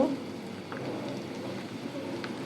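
Chicken chap, restaurant style, frying in hot oil in a pan, giving a steady close crackling sizzle with faint pops throughout, no voices.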